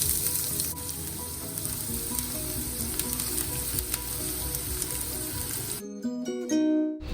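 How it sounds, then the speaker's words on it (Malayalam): Chopped cutlet ingredients hit hot oil in a pan with a loud, close, crackling sizzle that runs steadily, then breaks off near the end into a few sharp clinks and scrapes. "എണ്ണ ചൂടായാൽ അതിലേക്ക് മുറിച്ച് വെച്ചതിട്ട് കൊടുക്കാം."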